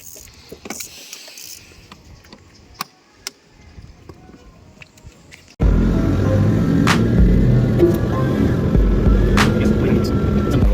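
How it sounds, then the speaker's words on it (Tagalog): Toyota Fortuner engine with an alternator problem: faint clicks and quiet idle at first, then a loud, steady throbbing engine hum with a mechanical whine that suddenly starts about halfway through and runs close and continuous to the end. "alternator problem, engine noise."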